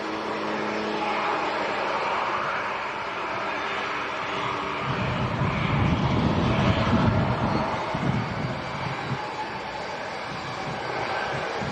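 A Jet2 airliner turns through 180 degrees and backtracks along the runway at Leeds Bradford Airport on a windy day. Its engines give a steady, distant roar tangled with gusty wind noise on the microphone, continuous throughout.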